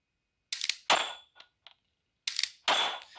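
A Mantis Laser Academy laser training pistol is dry-fired, giving a few sharp, near metallic clicks and snaps with short pauses between them, heard alone.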